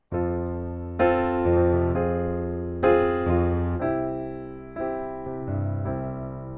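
Piano chords played one after another, each struck firmly and left to ring, moving from bright major to darker minor harmonies at a steady, unhurried pace.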